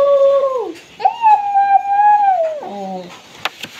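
A human voice imitating an owl hooting: a series of long, wavering, howl-like tones, loud and close, with a few faint clicks and breaths between.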